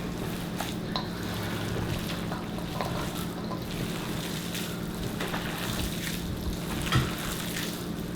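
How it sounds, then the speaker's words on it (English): Sausage meat with cheese and jalapenos being kneaded by hand, giving a steady, close, wet squishing and squelching with no clear breaks and no talking. "we'll mix for a little while. Get this cheese all throughout and these jalapenos"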